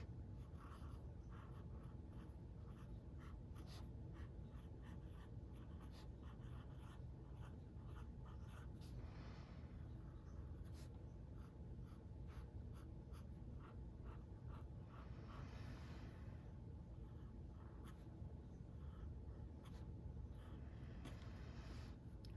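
A wet Sailor fine-nib fountain pen scratches across everyday writing paper, a faint, continuous scritching with small irregular ticks and strokes, very quiet and close.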